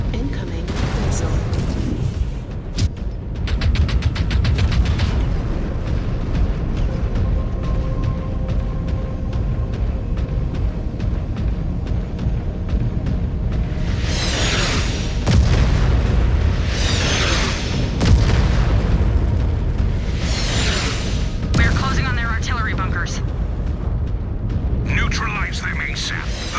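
Missile explosions and heavy booms roll through a MechWarrior 5: Clans battle, with several loud blasts recurring under game voices and a constant din of combat.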